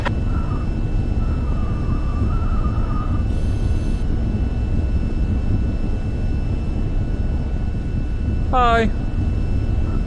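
A jet aircraft in the VR flight game VTOL VR taxis with a steady low engine rumble and faint tonal hum, with a brief voice heard over it.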